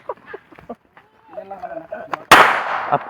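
A single sharp gunshot rings out close by during a test of an amulet, following scattered talk and leaving a long ringing decay.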